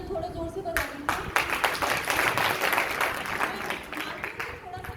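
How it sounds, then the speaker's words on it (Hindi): Applause from a seated audience at a training gathering breaks out after someone speaks, a dense, sustained clapping that lasts several seconds at moderate loudness. "तालियां थोड़ा जोर से बजा दीजिए"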